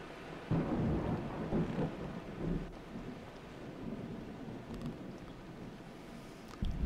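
Steady rain and deep rolling thunder from the video game Vein: a loud rumble swells in early and slowly fades beneath continuous rainfall, with a few faint clicks near the end.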